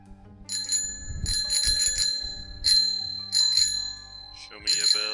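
A bicycle bell rings close by during bike maintenance, giving about five or six bright metallic dings in uneven bursts, with some low handling noise beneath.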